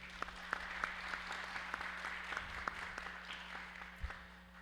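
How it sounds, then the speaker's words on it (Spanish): Audience applause for participants at a literary gathering, Café Relata, a steady wash of clapping from a crowd with scattered sharper individual claps, moderately distant and sustained throughout. "Un aplauso para ellos,"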